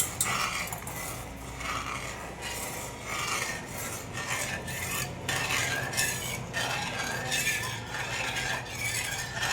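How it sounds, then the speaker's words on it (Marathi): A spoon stirs a cornflour mixture into melted sugar in a pan for Bombay halwa, a steady close scraping and rubbing against the pan over a faint sizzle, continuous with no talking. "इथं फक्त हलवत राहायचं कारण की थोडं होतं का म्हणून."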